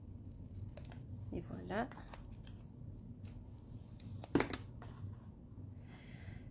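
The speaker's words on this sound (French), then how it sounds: "Je vais découper la petite enveloppe" Scissors snip out a small paper envelope for a 3x3 Stampin' Up! card, with a few close, sharp cuts and rustling paper. Someone speaks briefly.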